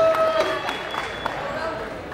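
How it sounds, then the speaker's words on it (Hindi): An audience at a film trailer launch event applauds for Vijay, a steady wash of scattered clapping at moderate loudness under a speaker's amplified voice and faint crowd murmur. "एक बार जोरदार ताली विजय सर के लिए।"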